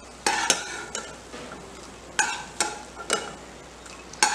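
Almond kernels roast in desi ghee in a pan and are stirred. Soft frying and sizzling sit under a run of sharp scraping clacks from a spoon against the metal, spaced irregularly and heard up close.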